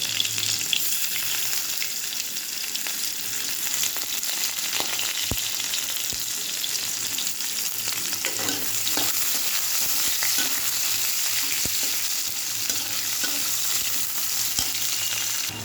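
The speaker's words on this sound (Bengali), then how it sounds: "আমার পেঁয়াজটা ভাজা হয়ে গেছে" About one and a half onions fry in a hot pan with a steady, dense sizzle and crackle, with a few faint stirring knocks and no talking.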